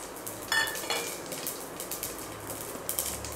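Whole spices such as cinnamon and cloves drop into hot ghee for a pulao tempering, giving a soft sizzle with light clinks and stirring taps of metal on the pan, fairly quiet and without voices.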